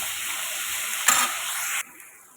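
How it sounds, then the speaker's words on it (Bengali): Potatoes, onion, chili and tomato sizzle in a pan for a spicy semolina breakfast, a steady close hiss that swells briefly midway and then cuts to a much quieter simmer near the end. "ভালোভাবে আলু পেঁয়াজ লঙ্কা সুন্দরভাবে টমেটো ভাজা করে নেবো"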